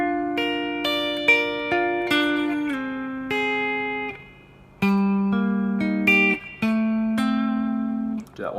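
An acoustic guitar plays a Haitian riff as a melodic line of plucked notes and short double stops. The notes ring clearly up close, with a brief pause partway through, and no voice.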